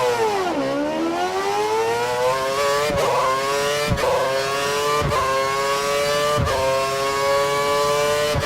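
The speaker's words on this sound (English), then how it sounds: "Head down the track, accelerating past 160 miles per hour" An F1 car in F1 2013 accelerating down the track, its high-pitched engine whine climbing steadily through several gear changes, each shift marked by a sharp break in the loud, continuous scream.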